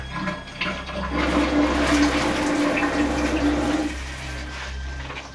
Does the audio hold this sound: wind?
no